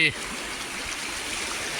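Fast-flowing Beas river near Kishanpur in Kahnuwan block, Gurdaspur, on an evening in flood: a steady, broad rushing hiss of water that holds at an even level for the whole stretch after a brief louder start.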